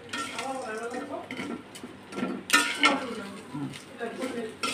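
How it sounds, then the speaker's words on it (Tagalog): Noodles go straight into a cooking pan, with metal clanks and scraping, stirring sounds from the pan while a person talks over the cooking. "I'm gonna direct add the noodles"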